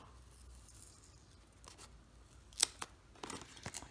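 Packaging for a Suunto Core watch is peeled back during an unboxing, giving a few quiet ripping and rustling bursts near the end after a near-silent start.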